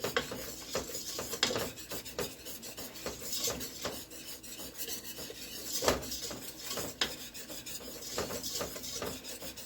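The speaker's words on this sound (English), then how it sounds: "And then whisking it in until there's no more lumps" A whisk scrapes and rasps steadily through flour and melted butter in a pot to make a roux for mac and cheese. The strokes come in a quick, continuous rhythm, close and fairly loud, with no voices.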